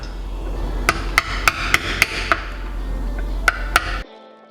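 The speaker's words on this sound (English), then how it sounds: "And a hammer." A hammer taps metal during restoration of a BMW E30 limited-slip differential: about eight sharp, ringing strikes in an uneven rhythm, close and clear over a steady hum, ending abruptly.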